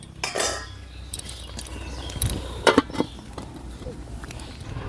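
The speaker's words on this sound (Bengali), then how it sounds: "এবার আমি ঢেকে দেবো" A lid clattering onto a pot of tomato chutney on the stove, with several metallic clinks and knocks, the loudest pair in the middle, against a quiet kitchen background.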